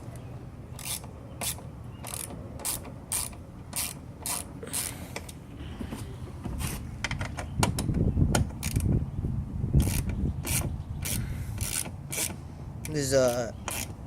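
A ratchet with an 8mm socket working fasteners on a machine housing, a long series of sharp rhythmic clicks in quick bursts, close and crisp over a low rumbling background, with brief speech near the end.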